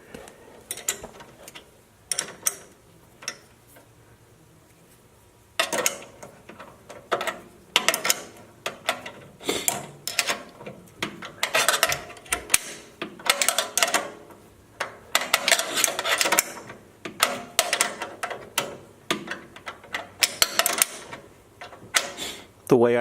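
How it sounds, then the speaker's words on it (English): Two 13 mm open-end box-end wrenches tighten four motor mount bolts on a Harbor Freight chipper, giving irregular metallic clicks and ratcheting bursts up close, with a voice speaking at times. "We have two 13 millimeter open end box end wrenches, and we're going to tighten the 4 bolts"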